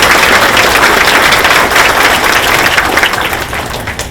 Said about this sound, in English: Please join me in a round of applause for our staff.